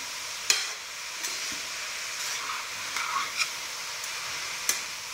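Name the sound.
grated carrot sautéing in ghee for gajar halwa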